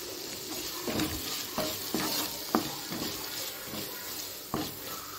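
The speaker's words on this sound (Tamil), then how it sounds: "இப்போ கேரட் பீன்ஸு இப்போ நல்லா வதங்கிக்கட்டுங்க. ஸ்டவ்வை மிதமான தீ வச்சு இப்போ வதக்கிக்கலாங்க." Carrots and beans sautéing on a medium flame for a healthy pasta dish, with steady frying sizzle and a series of spatula scrapes and taps at an uneven rhythm.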